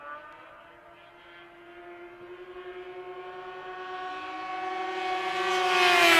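Racing snowmobiles (power toboggans) at a heat of the Canadian Power Toboggan Championships in Beausejour, Manitoba: a high-pitched engine whine climbs steadily in pitch and grows louder as the sleds approach, no voices.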